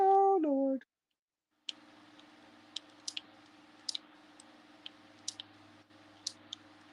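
After a short electronic beep and a brief silence, a flight plan is typed on a keyboard: scattered, faint key clicks come one at a time at an uneven pace over a low steady hum.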